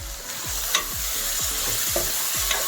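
Mint being stirred into frying tomatoes and onions for egg dum biryani, with regular scraping strokes about twice a second over a soft steady sizzle and no voices.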